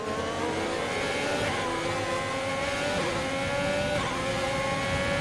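A Formula 1 car's engine screams at high revs in a racing video game, a sustained, loud, close whine that climbs steadily in pitch with no talk over it.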